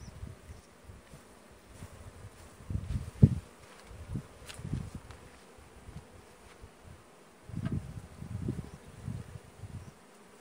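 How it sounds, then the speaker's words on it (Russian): Honey bees buzz around their hives in spring while honey is being extracted, a steady insect hum with louder bursts as individual bees fly close past, under outdoor background noise. "Пчелки хорошо сегодня работают, погода хорошая."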